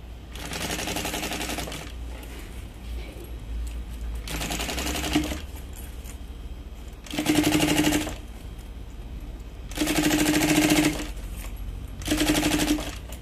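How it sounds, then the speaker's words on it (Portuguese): A sewing machine runs a line of stitches along the edge of a loose lining in several loud bursts of rapid mechanical chatter, separated by quieter pauses, with no talking. "A gente vai passar uma costurinha aqui bem na beiradinha, só pra segurar esse forro."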